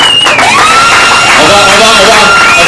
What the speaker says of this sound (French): On peut applaudir pour Fali Poupa, s'il vous plaît.